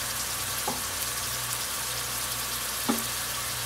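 Cranberry beans fry with seasoning in a pot, a steady close sizzle and crackle running throughout, with a couple of brief utensil scrapes standing out and no one speaking.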